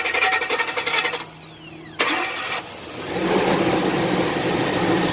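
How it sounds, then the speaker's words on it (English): A car engine is revved sharply in a snap-throttle fuel pressure test, a quick burst and whine followed by a brief drop to quiet and then a rising steady roar as the engine settles, with no one speaking. "So go ahead and do the snap throttle real quick, Mike."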